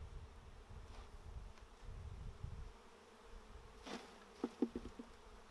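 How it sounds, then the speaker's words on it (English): Honey bees hum faintly and steadily around a hive as a frame is shaken out, with a few brief knocks and buzzing bursts near the end. "So we'll shake another frame."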